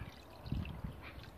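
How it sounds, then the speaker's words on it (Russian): Cold water is poured from above over meat into a cast-iron pot, a faint, steady splashing pour with a few soft gurgles. "заливаем это все доверху холодной, друзья мои, водой"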